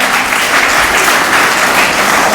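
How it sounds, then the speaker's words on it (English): Audience applause at a school tree-planting and birthday event, dense and steady clapping that fills the room for the whole stretch, loud and close, with no voices over it. "Give him a hands of applause."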